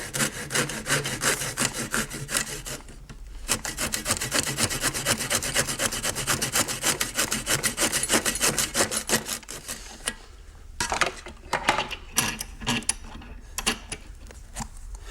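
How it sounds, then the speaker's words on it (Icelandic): A hand saw cuts through a clamped tennis ball in rapid, rasping back-and-forth strokes, loud and close, with a short pause partway and then uneven, slower strokes as the cut finishes. "Svo bara söguðu henni sundur"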